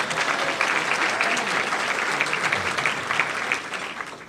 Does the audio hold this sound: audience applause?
yes